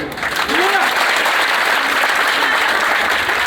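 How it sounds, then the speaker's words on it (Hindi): Crowd applause welcoming a guest at a political gathering, building quickly to a loud, dense clapping that holds steady, with a voice briefly heard under it near the start. "इनका तालियों से स्वागत कीजिए।"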